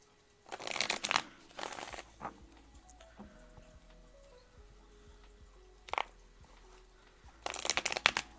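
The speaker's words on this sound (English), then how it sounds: "tell me when to stop shuffling" Tarot cards shuffled in several short, brisk riffling bursts with pauses between, fairly close and clear, with a low steady hum underneath and no talk.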